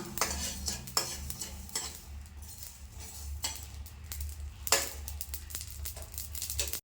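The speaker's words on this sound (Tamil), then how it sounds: "இப்போ இது கடுகு வெந்தயம் எல்லாம் நல்லா பொரிஞ்சு வருது பாருங்கள்." Mustard and fenugreek seeds crackle and spatter in hot oil, a steady frying sizzle with sharp pops scattered throughout, close up and without voices.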